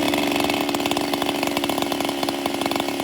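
A chainsaw running on a new Duke's bar and chain, its engine buzzing loud and close with a rapid, fluttering pulse through the whole stretch, no voices heard.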